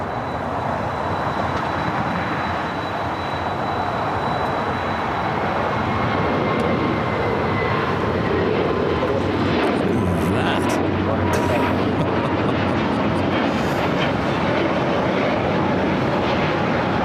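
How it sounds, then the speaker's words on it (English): A FedEx Boeing 767 taxis and turns at LAX, its engines a loud, steady broadband roar throughout, with a few brief clicks and rattles partway through. "That is a FedEx 767. Making that left-hand turn in the Alpha 8."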